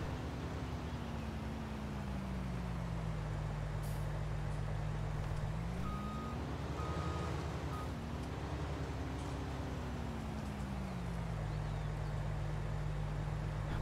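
A truck engine in Farming Simulator 19, its power upgraded, drones steadily throughout, its pitch sagging, rising and dipping again as the load shifts, loud and continuous with no talk.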